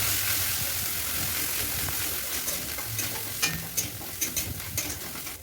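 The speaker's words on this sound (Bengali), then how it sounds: "ওতে একটু গুঁড়ো মশলা অ্যাড করব, হলুদ, লঙ্কা, লবণ দিয়ে ওটাকে ভালো করে মিশিয়ে নিয়ে" Ground turmeric, chilli and salt frying in a wok with a dense, continuous sizzle, while a spatula stirs and scrapes through the mixture in several short strokes toward the end.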